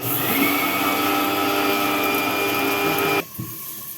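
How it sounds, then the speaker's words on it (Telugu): A mixer grinder runs loud and steady, whirring as it grinds sesame seeds into powder, then cuts off abruptly near the end, leaving a brief rattle as the jar settles. "మిక్సీ పట్టిన నువ్వుల పొడి"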